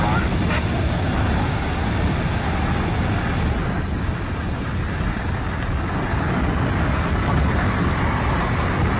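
Steady broadband roar of an airplane engine in flight, loud and continuous with wind rush over it, close and constant throughout with no clear pauses.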